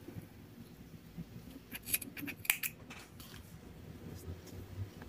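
Scissors snipping crochet yarn while making a tassel, a few faint sharp close snips clustered together with quiet handling noise around them, no voices.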